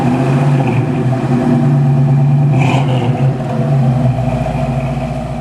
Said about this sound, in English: The car sounds fantastic.